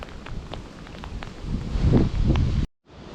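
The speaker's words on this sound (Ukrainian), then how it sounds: "Дощик, вітерець." Light rain and a breeze outdoors during street fishing in Kropyvnytskyi, heard as a steady close rustling hiss with soft patters. The gusts swell midway, then there is a brief gap before the sound resumes.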